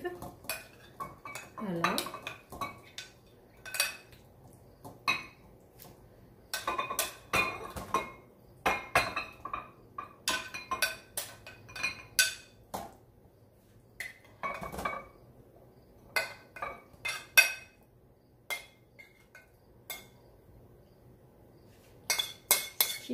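Spoon and ladle clatter against ceramic gratin dishes while a meatball and olive mixture is portioned in, giving many sharp irregular clinks and scrapes at close range, with a brief spoken word near the end.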